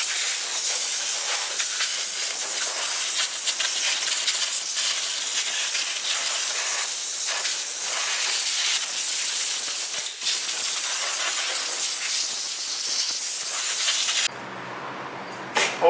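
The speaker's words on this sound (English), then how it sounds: "Let me grab a blow nozzle and get this junk out of here." Compressed air blasting through a blow nozzle to clear debris off a Ford F-150 engine during exhaust manifold work, a steady loud hiss lasting about fourteen seconds before cutting off abruptly.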